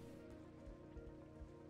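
Water rains down inside a puzzle video game as a steady, faint patter of drops with soft low thumps, continuous and even with no talking.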